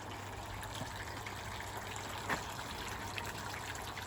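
Water being pumped out of a koi pond while a temporary new home for the fish is set up, heard as a faint, steady trickling gush that runs unbroken throughout, with no voices.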